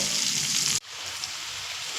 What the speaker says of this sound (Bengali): পেঁয়াজটা একটু ভাজা হতে দেবো